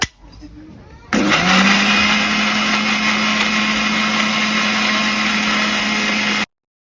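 Blender grinding a chutney paste of chilli powder, salt and oil, starting abruptly after a quiet moment and running loud and steady with a constant whirring motor until it cuts off.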